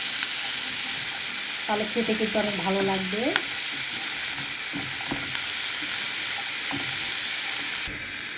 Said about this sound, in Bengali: সরিষার তেল দিয়ে ভেজে নিচ্ছি